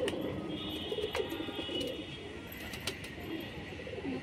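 Fancy pigeons of the Shirazi and Mughal breeds coo softly and repeatedly in a loft, a low burbling murmur with a few faint chirps and thin noises above it.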